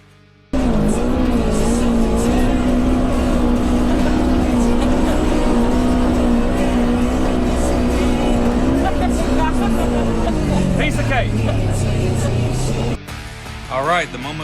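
A Polaris Xpedition side-by-side fitted with a sport exhaust, its engine running loud and close as the revs rise and fall in a rough, throaty drone over several seconds, then dropping near the end.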